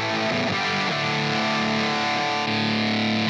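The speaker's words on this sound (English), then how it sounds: "Distortion." Distorted electric guitar tone from a Line 6 POD Express multi-effects unit, a few picked notes settling into a held, saturated chord that rings loud and steady with no talking.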